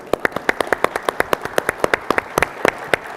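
Applause at a conference keynote comes as quick, sharp claps in a fairly sparse, rhythmic stream, close and moderately loud, with no talking over it.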